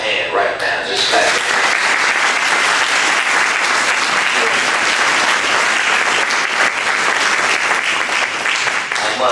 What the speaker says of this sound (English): Let's just give all of our peace leadership a hand right now. Just clap.